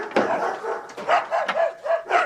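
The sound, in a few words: two dogs barking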